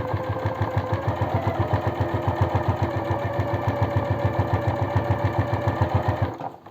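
Sewing machine running steadily as it stitches a pajama seam with a slightly longer stitch, a fast even mechanical chatter that holds for several seconds before slowing to a stop, close and with no talk.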